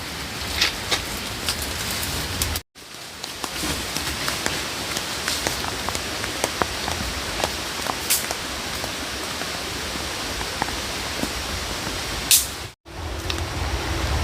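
Steady rain falls outdoors in a rural Vietnamese setting, a dense even patter of drops on surfaces with occasional louder splashes, continuous and fairly close, with two brief cut-outs and no talk.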